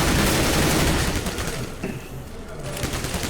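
Rapid gunfire in a Counter-Strike: Global Offensive match, a loud run of shots that tapers slightly toward the end, with other game noise beneath.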